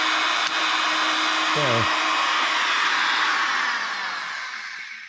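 A router spinning a bit in a wooden cutting board while cutting a juice groove, giving a loud, steady, high-pitched whine that holds close and then tapers off, with a brief spoken word near the start.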